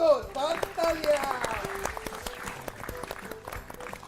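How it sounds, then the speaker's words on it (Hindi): Studio audience on a Hindi TV comedy quiz show applauding, with the clapping mixed under overlapping voices and bright musical tones that fade as the sound settles. "हो जाए एक बार फिर से जोरदार तालियां।"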